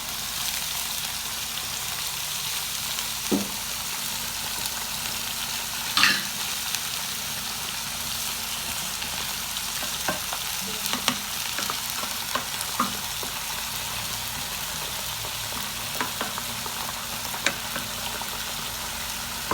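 Chicken and potatoes frying in a pan for a chicken and potato gratin, a steady soft sizzle with scattered small pops and crackles throughout, heard close and alone with no talking.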